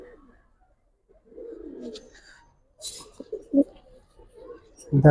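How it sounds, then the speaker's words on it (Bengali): Gribaz and colouring pigeons cooing in soft low throaty bursts, close and intermittent, with quiet pauses and a few brief sharper noises between calls, and a person speaking briefly among them. "প্রত্যেকটা কবুতর ভাই দেখেন"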